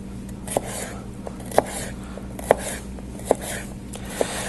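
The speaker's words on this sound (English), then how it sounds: "We want to make long strips and then cut those into small cubes." A knife chops vegetables into strips and cubes for ratatouille, landing about five crisp, evenly spaced strikes on a cutting board over a low, steady room hum.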